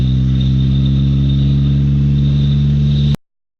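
Lexus LS400 engine held at full throttle in a low, torquey gear, a loud, steady droning roar with strong low harmonics that cuts off abruptly near the end, no voices present.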